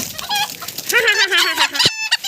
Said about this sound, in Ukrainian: який маленький півник